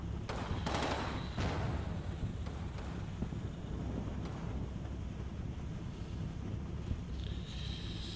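Gunfire in the Combat Mission WWII game near Aachen: a few sharp distant shots and short bursts early on, then scattered faint pops, all under a steady rushing wind-like background.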